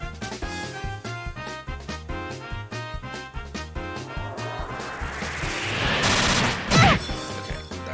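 Airstrike explosions from the Trails in the Sky video game crash in over busy game music, building into a loud roaring burst with a sharp blast near the end, then fading back under the rhythmic score.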